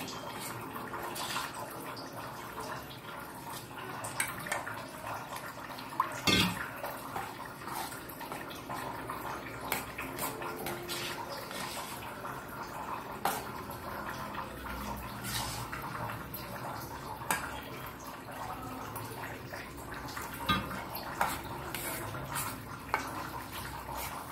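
Water pours and splashes into a bowl of masala vegetable bonda batter, a steady wet trickle with occasional clinks and drips, close and alone with no talking.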